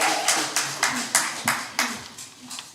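A scattering of hand claps, loose and roughly rhythmic, a few sharp slaps per second, with faint voices murmuring underneath.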